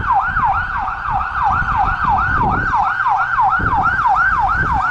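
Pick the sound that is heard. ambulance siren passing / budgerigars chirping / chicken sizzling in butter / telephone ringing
ambulance siren passing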